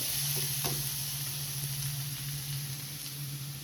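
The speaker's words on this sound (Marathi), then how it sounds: "आता हा कांदा आपल्याला भाजायचा, मी गॅस कमी ठेवलाय" Sliced onion frying in a pan over a low gas flame, a steady close hiss and sizzle that runs unbroken throughout, with a faint stir or scrape near the start and no voices.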